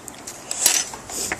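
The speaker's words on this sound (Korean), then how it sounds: "이 숟가락으로 섞은 다음에" A spoon scrapes and clinks against a container in a quick burst of stirring tteokbokki rice cakes, sauce and water, close and fairly clear.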